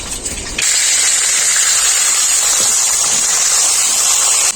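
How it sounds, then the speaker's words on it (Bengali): Water poured into a hot pan of well-fried vegetable stalks with bay leaves and ginger paste bursts into a loud, steady steam hiss after a brief quiet moment, sustaining a dense rushing sizzle to the end. "ডাটাটা খুব ভালো করে ভাজা হয়ে গেছে এর মধ্যে দিয়ে দেবো অল্প একটু জল"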